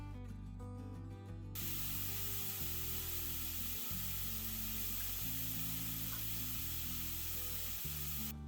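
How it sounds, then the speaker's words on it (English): Pork chops sear in a hot pan with a steady, dense hiss that carries on without a break, while background music plays throughout. "flip them over so you can sear the other side"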